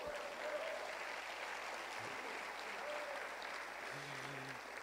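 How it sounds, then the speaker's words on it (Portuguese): Church congregation applauding during a sermon, a steady, even wash of clapping from many hands filling the space throughout, with no voices over it. "você pode aplaudir o Senhor Jesus?"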